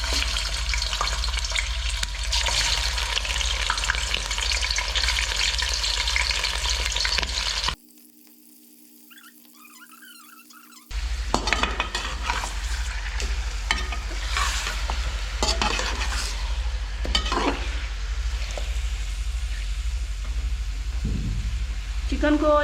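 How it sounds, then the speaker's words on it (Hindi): Chicken fries in a cup of hot oil in a karahi, a loud, close, crackling sizzle with stirring noises that cuts out briefly partway through, then returns just as strong. "तो ऑयल गर्म हो चुका है, अब मैं इसके अंदर चिकन ऐड कर देती हूँ।"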